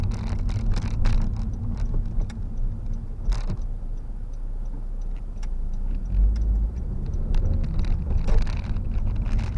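A 2015 Honda Civic drives steadily through a village, its low engine and road rumble constant throughout with faint wind noise and small interior rattles, no one talking.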